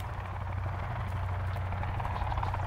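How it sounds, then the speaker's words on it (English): Steady low rotor thump and engine drone of a helicopter flying in the survival game Sons of the Forest, continuous and fairly loud with no talk over it. "Where is that helicopter landing?"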